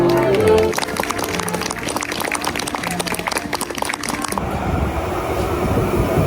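A train in Norway rumbles and clatters past at close range, a dense rushing roar that grows steadier toward the end, with voices and a brief melodic tone audible at the start.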